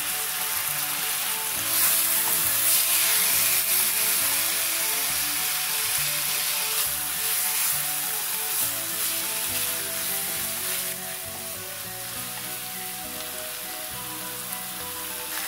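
Vegetables sizzle in a hot pan alongside ginger pork (shogayaki), a steady dense frying hiss that stays loud and close throughout, easing off slightly near the end.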